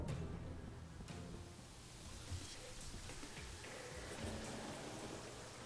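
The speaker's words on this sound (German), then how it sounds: "Ne, da ist der Donner." Thunder during a rainstorm in the video game Terraria, a low rumble rolling under a constant hiss of falling rain, with a faint voice briefly audible in the background.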